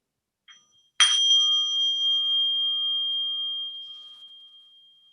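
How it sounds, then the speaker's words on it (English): A singing bowl struck once to open a meditation service, its clear sustained ring with steady overtones fading slowly over several seconds in a quiet room. "we now begin our sacred service with the ringing of the bowl."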